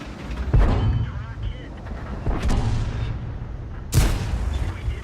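Tank cannons in World of Tanks fire three heavy booming shots spaced a couple of seconds apart, each with a rumbling tail, amid battle noise and talk.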